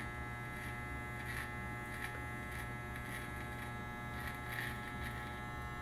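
An electric hair clipper cuts along the hairline during a self-haircut, a steady close buzz with brief swells as the blades pass through hair.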